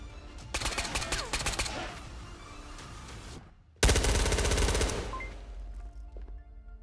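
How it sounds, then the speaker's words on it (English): A gun fires by itself in a shooter game, rattling off fast automatic bursts up close. A loud stream of shots breaks off briefly, then a second, heavier burst follows before the sound fades. "Why did my gun just shoot itself into oblivion?"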